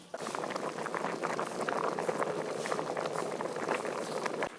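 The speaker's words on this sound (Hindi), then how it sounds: "पानी गर्म हो गया, अब हम इसमें चावल डाल लेंगे।" Rice boils in hot water in a pot for sweet zarda, a dense continuous bubbling and rolling churn that stays steady and close from start to finish, with no voices.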